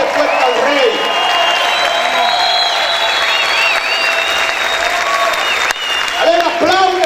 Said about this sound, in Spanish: Si usted lo cree, grite y aplaude fuerte al Rey.